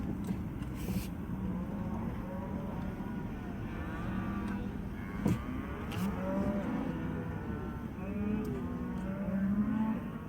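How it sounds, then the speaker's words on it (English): Cattle on an Oregon range moo repeatedly, several low calls at middling distance over a steady vehicle engine rumble. "I don't want to hurt their cows none."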